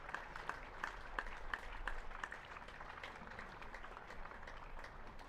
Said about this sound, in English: we'll just let the noise of the appreciative crowd filter through